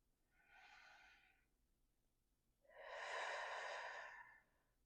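One slow breath close and quiet: a soft nasal inhale, then a longer, fuller, airy exhale through the mouth, in an otherwise near-silent room.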